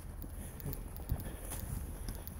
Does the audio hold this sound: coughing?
no